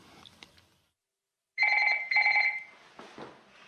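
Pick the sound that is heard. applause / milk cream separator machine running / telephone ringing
telephone ringing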